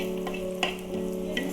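Fish curry being stirred in a pot, soft scraping and clinks of a spoon against the vessel over a low steady simmering hiss, quiet and close, with no one speaking.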